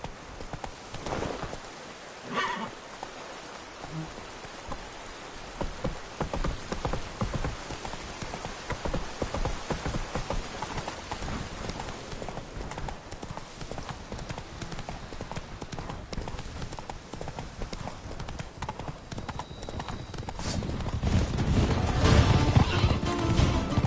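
Roach, Geralt's horse in The Witcher 3: Blood and Wine, gallops with a steady rapid clip-clop of hooves that continues throughout. Rain patters in the background and the sound swells louder near the end.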